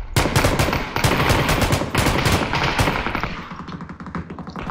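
Sustained bursts of light machine gun fire in PUBG, rapid loud rattling volleys that stay dense for several seconds before thinning into scattered shots near the end.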